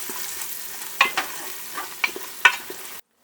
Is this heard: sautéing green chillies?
yes